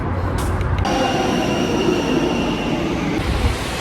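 Brussels metro train running on the line into the city, a steady loud rumble of wheels and carriage noise with brief higher squeals, continuous throughout without talk.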